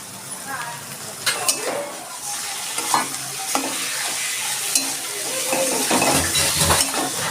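Chicken is stir-fried in a pan for chow mein, a steady sizzle broken by the scrape and clink of a spatula against the metal every second or so, with faint talk in the background.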